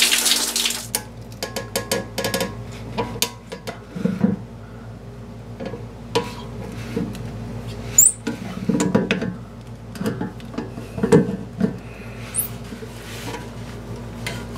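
A sponge soaks up water around a toilet during a fill valve replacement, giving soft intermittent squishes, drips and splashes, close by, with quiet pauses between.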